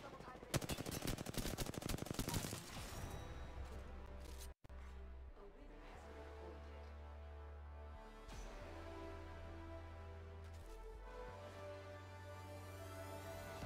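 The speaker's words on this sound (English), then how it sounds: "The enemies are shooting." Automatic weapon fire from enemies in the video game Apex Legends rattles in loud rapid bursts at the start, then gives way to a sustained musical score with low tones and occasional sharper hits.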